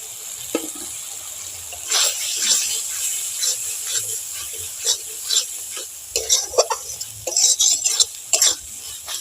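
A spoon scrapes and stirs prawn curry masala in a kadai, sharp irregular scraping strokes with a faint sizzle underneath, growing busier and louder toward the end.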